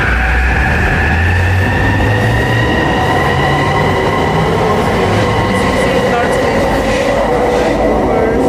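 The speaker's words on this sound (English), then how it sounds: "Millennium Line SkyTrain. And here she comes. Here comes the SkyTrain." A Vancouver Millennium Line SkyTrain pulls into a station with a loud, continuous rumble, rising electric whine and wheel squeal, heard close on the platform throughout.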